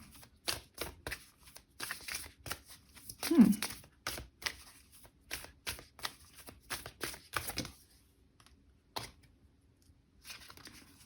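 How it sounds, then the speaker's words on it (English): Rapid papery riffling and slapping of a deck of Sacred Destiny Oracle cards being shuffled, in repeated bursts with short pauses, close up. "So now I'm gonna shuffle you the Sacred Destiny Oracle cards."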